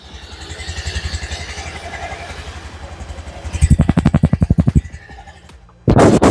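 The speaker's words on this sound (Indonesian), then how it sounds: "suara mesin juga masih mulus" A used Honda Beat FI scooter engine idles with a fast, even putter that grows louder, then cuts out briefly before revving back up near the end.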